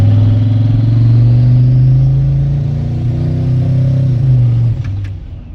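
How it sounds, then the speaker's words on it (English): Boosted Chevrolet Tahoe accelerating under partial throttle, a loud close engine roar that climbs in pitch and holds before easing off near the end. "Give y'all a pull real quick in the boosted Tahoe."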